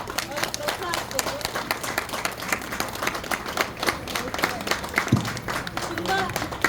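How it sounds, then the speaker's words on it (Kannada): An audience applauds a children's performance at a Purandarotsava cultural event, dense steady clapping from a crowd filling the whole stretch, fairly loud and continuous with no clear gaps. "ಈ ಮಕ್ಕಳ ಮುಗ್ಧತನವನ್ನ ನಾವೆಲ್ಲರೂ ಜೋರಾದ ಚಪ್ಪಾಳೆಯೊಂದಿಗೆ ಅವರಿಗೆ ಪ್ರೋತ್ಸಾಹಿಸಬೇಕು."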